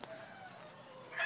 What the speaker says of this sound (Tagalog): Meron siyang mga manok ditong puro din